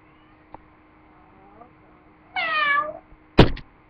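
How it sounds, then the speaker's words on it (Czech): A tomcat lets out one clear, drawn-out meow indoors, preceded by faint small noises and followed by a sharp thump. "To byl kocour, to nebyl já."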